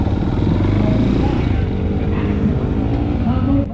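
A CF Moto Dual 230 motorcycle rides along with a loud, close engine drone and wind rush, its pitch gently shifting as the rider maneuvers, with a voice speaking over it.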